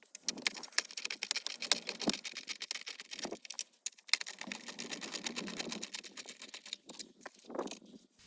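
Bolts come out of a Chevrolet Volt display bezel as a quiet, close run of rapid ratcheting clicks in bursts, with short pauses between and no talking.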